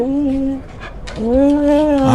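A person's voice imitates a dog whimpering and whining, as if a dog were scratching at a PVC door, in two drawn-out tonal whines, close and fairly loud.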